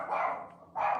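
A dog gives two short barks in quick succession, fairly faint and slightly distant, with a brief gap between them.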